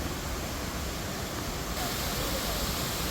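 An indoor waterfall at an airport terminal produces a continuous, even rush of falling water, a dense, broad hiss that stays steady and fairly loud throughout with no talk.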